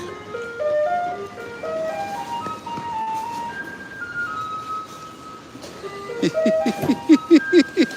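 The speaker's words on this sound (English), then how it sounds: "And they play the ice cream song" A garbage truck in Taitung, Taiwan plays the ice cream truck melody at night, a loud tinkling tune rising in steps, then a burst of quick repeated chime notes over the low hum of the truck's engine.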